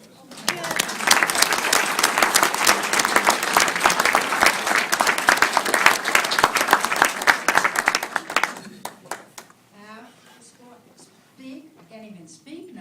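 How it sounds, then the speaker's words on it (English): A gathering at a celebration of life breaks into loud, sustained applause from many hands for about eight seconds, then it fades out and a voice begins talking over the quiet room. "Let's have a round of applause."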